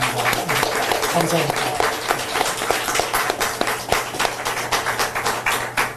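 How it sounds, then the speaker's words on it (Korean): Audience applause fills a room at a Korean political-reform press conference, dense steady clapping at close range for several seconds while a voice speaks briefly over it. "다시 한번 큰 박수 부탁드립니다."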